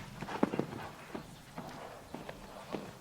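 Horse hooves strike turf in an uneven clip-clop during a show jumping round at a modern pentathlon world championship riding event, a series of soft, mid-distance thuds over low background noise.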